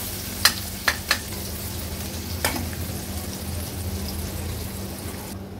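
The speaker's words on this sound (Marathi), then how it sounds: "कांदा आता व्यवस्थित परतून घ्यायचा आहे आणि थोडा शिजवून देखील घ्यायचा आहे।" Chopped onion sautéing in a pan over a medium flame: a steady soft sizzle, with a few sharp clicks of a spoon against the pan near the start.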